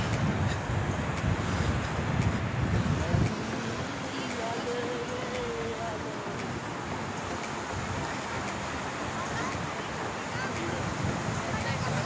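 Wind and breaking sea waves at Kolthare beach on the Konkan coast, a steady broadband rush of surf with wind buffeting the microphone, louder in the first few seconds and then constant, with a faint hum of distant voices.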